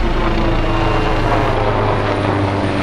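A steady, loud droning of helicopter rotors and engine fills the whole moment, continuous and close with no voices.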